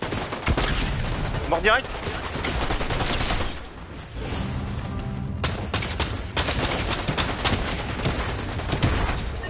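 Dense bursts of rapid gunfire crackle almost nonstop in a PS4 shooter, loud and close, dropping briefly to a quieter stretch before the shooting resumes, with players talking over it.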